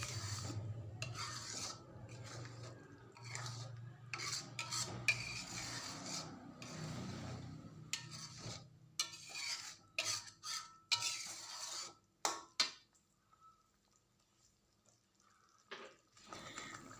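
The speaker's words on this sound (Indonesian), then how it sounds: "Kemudian aduk lagi sampai semua bumbunya tercampur dan merata." Peanut sauce for siomay being stirred with tamarind water in a pan, giving a steady scraping, rubbing rasp with occasional utensil clinks, close and fairly quiet, fading to near silence near the end.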